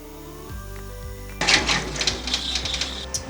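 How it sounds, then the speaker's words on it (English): An embroidery machine stitches a tack-down line on fabric for a pouch's center panel, starting with low humming motor tones and then shifting into a fast, busy mechanical clatter of needle strokes. "And now we're going to do the tack down stitch for the center panel."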